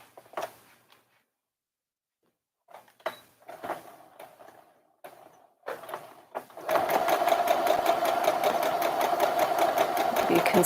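A sewing machine stitches a collar piece for a girl's dress, starting with a few short stop-start bursts of whirring, then running in a loud, steady rhythmic chatter to the end.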